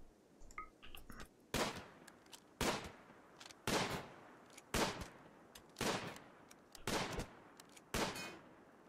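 Gunfire in the video game RimWorld as a colonist shoots an ostrich: seven sharp, fairly loud shots at a steady, evenly spaced pace, each a hard burst with a short tail, over faint background clicks and no talking.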